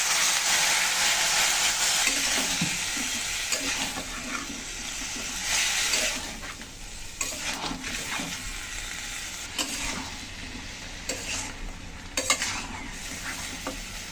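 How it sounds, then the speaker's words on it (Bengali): Spice paste for a vegetarian mixed-vegetable curry frying in a pan with a splash of water, a loud, hissing sizzle with scraping spoon strokes and bursts of bubbling, close up and steady without speech. "সামান্য একটু জল দিয়ে মশলাটা কষিয়ে নেব।"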